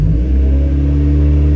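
A turbocharged Mazda Miata engine running on Megasquirt tuning idles steadily, with a loud, close, constant low rumble and no talking.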